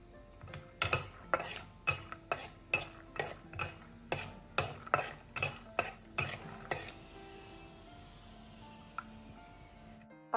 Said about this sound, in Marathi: शेंगदाणे छान खरपूस असे परतून घेणार आहोत.